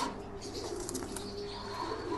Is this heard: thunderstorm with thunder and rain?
no